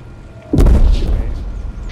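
A single deep boom from a frigate's gun firing at a submarine in the naval warfare game Foxhole, loud and close, then fading into a rumbling tail.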